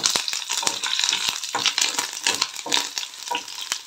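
Curry leaves and three slit green chillies frying in hot oil give a steady crackling sizzle with sharp spattering pops throughout, close and fairly loud.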